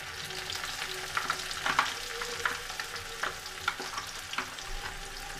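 Masala spiced with turmeric fries in a pan for a potato and pea curry, a soft, continuous sizzle broken by small crackles and the light scrape of stirring, close and fairly quiet.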